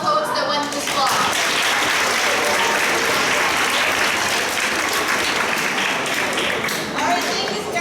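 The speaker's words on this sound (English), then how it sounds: "Let's just give one final applause for all the codes that went this block." A grade 9/10 spoken word poetry audience applauds, a long, full, even wash of clapping that holds at high volume from start to finish.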